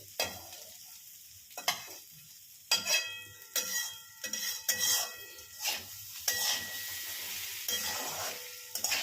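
Slit green chillies stir-fried in a pan: a steady low sizzle punctuated by irregular scraping and clinking stir strokes of a utensil against the pan, close and clear, with no talking.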